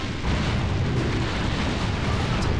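Cannon fire from ships in the strategy game Anno 1602 booms as a steady, dense, low rumbling roar of overlapping blasts, loud and continuous throughout without pauses.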